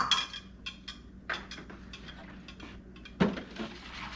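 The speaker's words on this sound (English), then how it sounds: "and give it a good mix" A spoon stirs a homemade banana pudding mixture in a bowl, with a series of irregular clinks and scrapes against the sides, close and fairly quiet, with one louder knock near the end.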